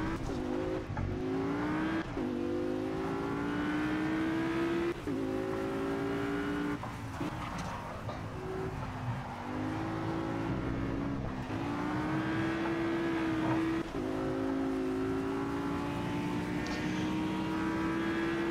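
An Audi race car drifting in Project Cars, engine droning steadily with repeated rising revs and shifts as the car slides through turns, loud and continuous throughout.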